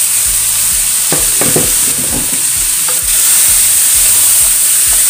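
Chopped chayote, white radish and carrot sauté in a pan, a steady loud sizzle with rhythmic scraping and stirring strokes from a spatula throughout, no talking.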